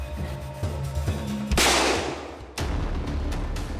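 In a reenactment on a western film set at a New Mexico ranch, a prop revolver fires one loud, sharp shot over a dramatic musical background.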